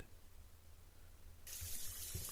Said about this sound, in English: turn on the shower faucet